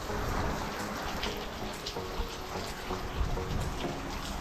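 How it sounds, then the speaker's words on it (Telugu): Heavy rain falls steadily outside under a sheet-metal roof, a close, even wash of patter with scattered louder drops throughout. "ఫుల్ వర్షం పడుతుంది బయట"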